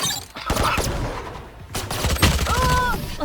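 Gunfire in the Valorant video game, loud sharp bursts of shots separated by brief pauses, mixed with game sounds and a rising tonal effect near the end, with people talking over it.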